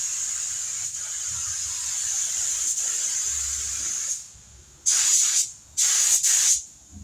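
A spray gun paints a Toyota Tacoma, starting with a steady high hiss and ending in two short, louder bursts of spray close by, with no talking.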